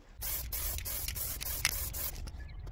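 An aerosol can of spray paint hisses in a series of short spray bursts onto cardboard, close and moderately loud, with brief pauses between them.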